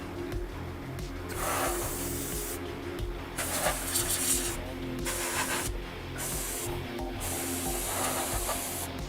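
Bursts of compressed air or a spray duster blowing dust off a crypto mining motherboard, several hissing blasts separated by short pauses, close and fairly loud over a steady low hum.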